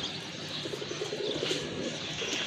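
A pair of Kaldom pigeons coo softly in short, low, rolling bursts, close by but quiet, with a faint flutter of wings.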